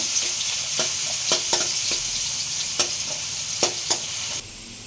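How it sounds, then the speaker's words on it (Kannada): Chopped onions and curry leaves fry in hot oil for a brinjal curry, giving a loud, continuous sizzle punctuated by repeated scraping strokes of a spoon stirring the pan. "ಚೆನ್ನಾಗಿ ಇದನ್ನು ಫ್ರೈ ಮಾಡ್ಕೋಬೇಕು, ಹಸಿ ವಾಸನೆ ಹೋಗೋವರೆಗೂ"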